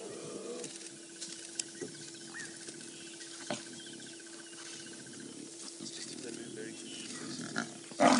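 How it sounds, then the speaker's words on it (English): At a buffalo kill on safari, a lion cub gives faint, thin calls from the distance over a quiet, steady outdoor background, with soft rustles and a few brief knocks nearby. "That's a cub making that noise"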